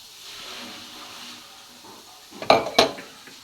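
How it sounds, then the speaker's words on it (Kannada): Paneer frying in a pan on a home stove with a low steady sizzle, then two sharp close clanks of a utensil against the pan near the end. "ನಾನು ಪನ್ನೀರನ್ನು ಇಲ್ಲಿ ಫ್ರೈ ಮಾಡ್ಕೊಳ್ತಾ ಇದ್ದೀನಿ"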